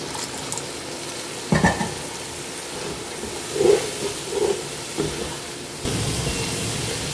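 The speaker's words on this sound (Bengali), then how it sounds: "এখন দিয়ে দেবো পানি, এই পানিটা দিয়ে মশলাটা ভালো করে কষিয়ে নেব" Water poured into spice paste frying for a beef and sweet pumpkin curry, a loud hissing sizzle with a few bubbling bursts and stirring knocks, swelling into a stronger steady hiss near the end.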